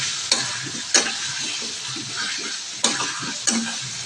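Mutton being sautéed in a pan: a steady frying sizzle with several sharp spatula scrapes and stirring knocks spaced across the few seconds, close and moderately loud, no talking.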